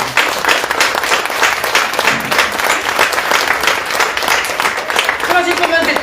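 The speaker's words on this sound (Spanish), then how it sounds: "¿Por qué no damos un fuerte aplauso," A church congregation claps loudly for Sister Brenda, a dense, steady round of applause with some crowd murmur and faint tonal sounds joining toward the end.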